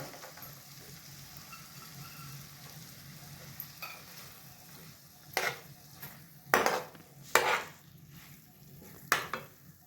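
Potatoes and green beans drop into hot oil for Maharashtrian bhogi bhaji, a low steady sizzle underneath and several sharp clattering stirs and scrapes of a spoon against the pan in the second half, close up with no talk.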